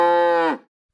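A single cow moos once, loud and close, a steady tonal low that drops in pitch and fades out abruptly at the end, with nothing else heard.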